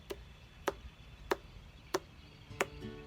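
A finger thumping a ripe watermelon, making five evenly spaced, short, hollow knocks roughly every two-thirds of a second, close by and quiet against a faint background hiss.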